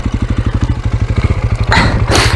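A KTM 525 motorcycle's single-cylinder engine chugs at idle in gear with no throttle, a steady rapid thumping pulse, close and loud, before a burst of louder clattering noise near the end.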